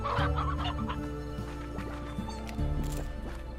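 Chickens cluck in the video game Slime Rancher, a steady run of close, busy clucks over a low game music drone, with faint hints of a rooster in the mix.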